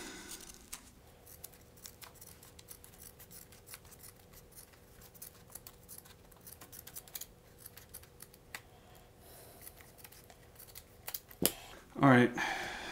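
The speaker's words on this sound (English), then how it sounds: "Should be good enough to go ahead and cut the felt." Scissors snip through felt for a foam puppet's mouth plate, with faint clicks and light handling noises under quiet talk, ending in a short burst of louder, close cutting.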